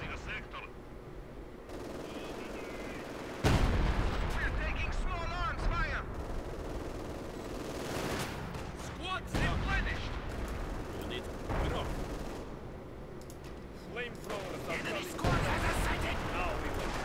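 Heavy artillery rounds in Company of Heroes 2 boom out in several separate blasts spaced a few seconds apart, loud against rumbling battle ambience while players talk throughout.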